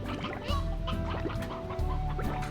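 Hens clucking in the Slime Rancher video game, a dense run of repeated cackling clucks over a steady low game hum, with no talk.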